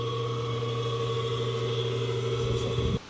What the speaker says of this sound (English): Your pump or your motor's going, the bearings or something in it